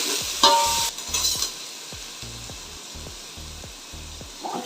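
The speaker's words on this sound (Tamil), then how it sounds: "இதோட நம்ம கட் பண்ணி வச்சுருக்க இந்த வெங்காயம் இதையும் ஆட் பண்ணிடலாம்" Chopped onion tipped into hot ghee with cinnamon, cardamom and cloves for ghee rice, a steady fry sizzle broken by repeated scraping stirs of a spoon against the pan, close and alone.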